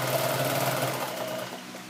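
Sewing machine running a seam on a denim apron made from old jeans, a close, steady rapid mechanical whir that slows slightly toward the end.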